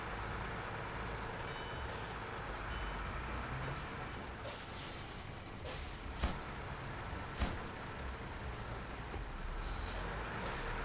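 A heavy truck in modded SnowRunner rumbles steadily at close range, with a couple of sharp air brake hisses cutting through midway and faint beeps now and then.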